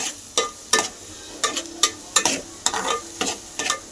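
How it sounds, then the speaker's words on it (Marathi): Pav bhaji masala, kitchen king masala and turmeric fry in oil while a spatula stirs in quick repeated scrapes and taps over a light sizzle, close and crisp. "अंबारी, किचन किंग मसाला आणि एव्हरेस्ट आणि हळद सगळं टाकून मस्त तेल सुटूस्तवर परतून घेणार आहे"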